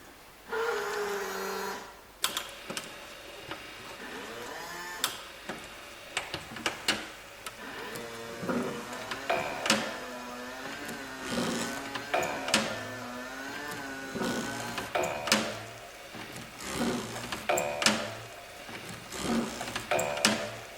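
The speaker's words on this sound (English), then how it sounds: "It's a weird sounding wiper motor." A 1982 Corvette windshield wiper motor runs with an odd, uneven whir and repeated rhythmic mechanical thumps and ticks, heard close and alone for about twenty seconds.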